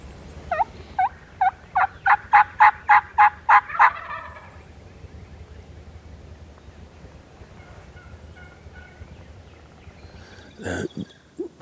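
Wild Rio Grande turkeys gobble in a rapid series of loud, rattling calls from middle distance in Oklahoma, followed by quieter background calls and a brief rustle.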